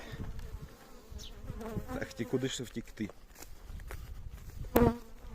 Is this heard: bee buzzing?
yes